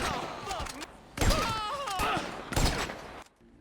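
Bursts of gunfire ring out in a chaotic shootout in a video game, several loud volleys and thumps in quick succession, mixed with game voices and background effects.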